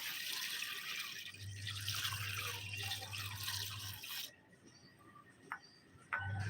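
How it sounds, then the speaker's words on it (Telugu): Water running and splashing into a vessel as a cup of stored rice goes into six litres of water, a steady close pour that cuts off partway, then a few faint drips and knocks. "ఒక పెద్ద కప్ స్టోర్ రైస్ అనేది తీసేసుకుంటున్నాను ఆరు లీటర్ల వాటర్లో ఈ రైస్ మొత్తాన్ని యాడ్ చేయడం"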